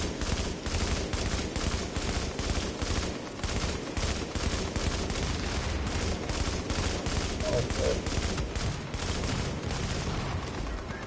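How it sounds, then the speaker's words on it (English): An M60 machine gun fires in The Division video game, with dense, continuous bursts of gunfire and steady rapid reports throughout, loud and close, alongside other battle noise. "That's that M60."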